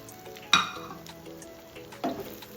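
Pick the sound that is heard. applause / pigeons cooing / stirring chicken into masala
stirring chicken into masala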